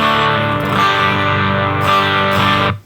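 A distorted Epiphone Les Paul on the bridge pickup, played dry straight into a Supro Statesman amp, rings out loud and close, sustained chords with a crunchy tone before cutting off abruptly.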